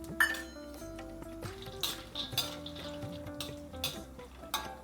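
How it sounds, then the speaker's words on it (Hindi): Cashews roasting in ghee in a kadhai, a gentle sizzle under intermittent clinks and scrapes of a spoon against the pan, close and quiet, with soft background tones. "थोड़ा सा घी हम लोग कढ़ाई में डालेंगे। सबसे पहले हम लोग काजू को रोस्ट करेंगे।"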